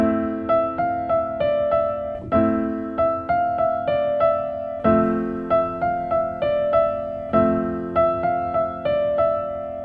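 Piano plays sustained chords with a short, simple melody repeating over and over in a steady rhythm, clear and close with no voices.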